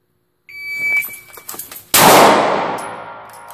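A single loud handgun shot from a drawn-from-concealment pistol cracks out, then rings and decays over about a second and a half, preceded by a shot timer's beep and rustling of clothing and holster.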